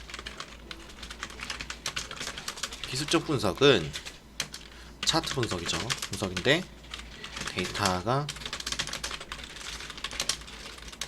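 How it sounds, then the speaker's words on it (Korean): Bursts of computer keyboard typing come in quick clattering runs, interleaved with someone talking in Korean during a stock-analysis lecture, the keystrokes close and crisp between his phrases. "타이핑을 좀 치겠습니다"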